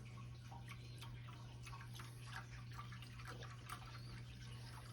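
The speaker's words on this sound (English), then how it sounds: "So we're going to pour that in there very gently." Quiet Sprite trickles and fizzes as it is poured gently into a container, with faint splashes and drips, steady and close, over a low electrical hum, with no talking.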